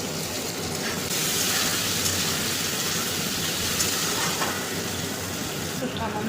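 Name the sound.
chopped onion frying in pan with prawns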